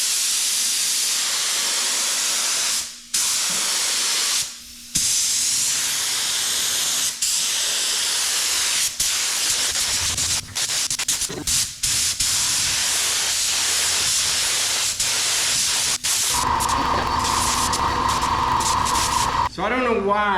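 Spray gun laying a heavier coat of PVA release agent on a hood scoop mold for a 1990-1993 Toyota Celica All Trac, a continuous close hiss broken by a few short pauses, ending in a brighter sputtering spray.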